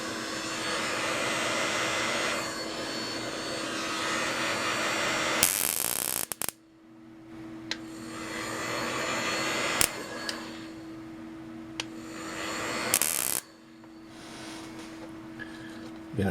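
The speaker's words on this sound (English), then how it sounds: "I have the heat gun out. Let's just heat this up a little bit and see what happens." A heat gun blows hot air onto a circuit board beside a Fluke 107 meter, giving a steady loud roaring hiss that cuts off abruptly twice and restarts, with faint clicks in between.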